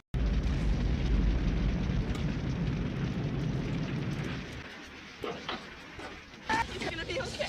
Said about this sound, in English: Apparently, they have forgot to throw out a wheelchair when they shot this explosion